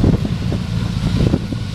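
A 1965 Chevrolet Malibu two-door hardtop's dual exhaust gives off a deep, loud, throbbing low rumble in a brief close burst, with some wind buffeting.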